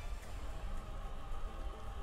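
Steady rain weather ambience from a Pokemon Battle Stadium doubles battle, a dense, even hiss of falling drops without pause, moderately loud and with no one talking.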